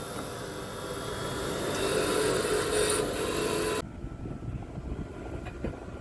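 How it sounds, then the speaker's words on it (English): Cylinder head bolts from a David Brown tractor engine held against a spinning wire wheel, a loud steady abrasive rasp that grinds on for several seconds before cutting off, leaving quieter workshop rattles. "Just cleaning the cylinder head bolts up on the wire wheel."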